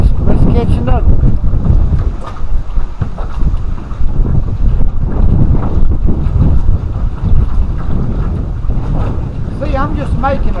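Wind buffets a boat on Weiss Lake during a crappie fishing trip, making a steady low rumble and gusting roar from start to finish, with faint hints of a voice under it.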